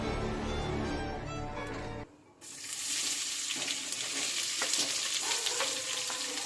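Chopped onion fries and is stirred in a hot pan while making Indian egg bhurji. A steady close sizzle starts after a brief stretch of music, with occasional scraping from stirring and no talking.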